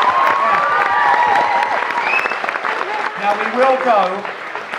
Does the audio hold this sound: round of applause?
yes